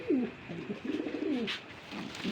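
Running pigeons on a breeding farm coo in soft, repeated low rolling phrases, close by, with faint background noise and no talk.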